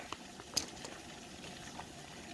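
Water bubbles at a low, steady boil in a canner for canning celery, faint and close, with a few small pops and clinks over the quiet rolling simmer.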